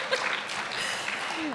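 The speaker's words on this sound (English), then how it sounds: "So huge round of applause for a real breakfast." Applause from an audience at a breakfast expo event, a brief steady wash of clapping about a second and a half long.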